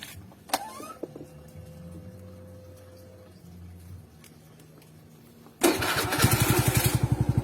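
Quiet mechanical clicks and a low idle hum, then a motorcycle engine cranks and fires up loudly, settling into a rapid, throbbing idle.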